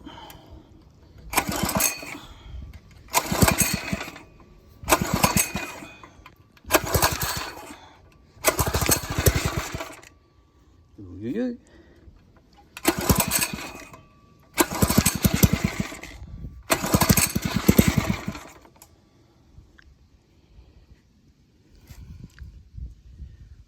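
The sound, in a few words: Phatmoto gas bike engine running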